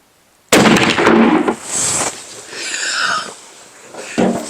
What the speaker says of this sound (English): First shot out of the Fiocchi.